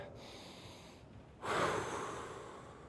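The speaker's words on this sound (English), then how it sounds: "go ahead and take a deep breath" A single deep breath is drawn in sharply through the nose about halfway through, soft and close, then slowly trails off in an otherwise quiet room.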